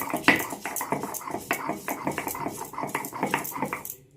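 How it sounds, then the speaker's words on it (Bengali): Ginger is ground with a little water on a shil-nora grinding stone, making a steady rhythmic scraping and knocking of stone on stone, close by. "অল্প অল্প করে জল দিয়ে আদাটাকে বেটে নেব। শিলনোড়া বাটা মশলা কিন্তু আলাদাই টেস্ট লাগে খেতে।"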